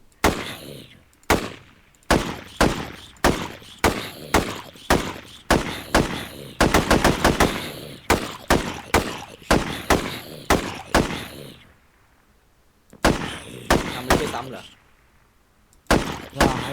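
Gunfire at a boss in Minecraft MineZ, loud sharp shots firing in rapid bursts with short pauses, some shots clustered tightly together, a few quiet gaps between volleys.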